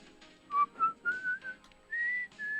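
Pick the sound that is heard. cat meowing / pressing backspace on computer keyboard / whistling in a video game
whistling in a video game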